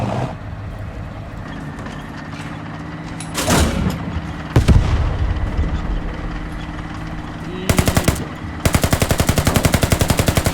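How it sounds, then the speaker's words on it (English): A tank's machine gun in a video game mod rattles off rapid bursts near the end, after earlier engine rumble and a couple of heavy blasts, loud and close with no talking. "I don't have to switch to the machine gun. I just right click."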